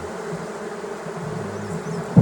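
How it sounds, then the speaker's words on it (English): Honeybees hum loud and close around a caged queen during a trap-out, a thick, even buzz holding steady before a brief bump at the end. "But these may just be the nice bees in the colony."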